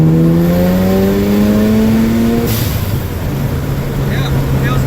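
An overpowered Volkswagen with a freshly repaired transmission accelerates in second gear, the engine note rising steadily and loud inside the cabin, then dropping back to a lower drone after a gear change.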